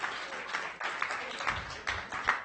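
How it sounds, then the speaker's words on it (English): Audience applause at a book talk for Peter and the speakers: a steady wash of many hands clapping across the clip, swelling in several bursts, with no voices over it. "One more round of applause for Peter and our speakers, everyone, please."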